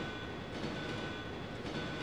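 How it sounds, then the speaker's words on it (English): A train pulling out in the Resident Evil 2 video game, a steady, dense rumble of rail noise with faint clatter, continuous and fairly quiet throughout with no talk. "Leon pulls the lever and the train pulls out"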